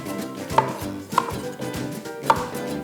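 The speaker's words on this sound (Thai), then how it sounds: "เราจะเอาบรอกโคลีเนี่ยหั่นเป็นชิ้นพอคำ" A knife chops broccoli on a cutting board in three distinct sharp strokes about half a second apart, over faint background noise, close up.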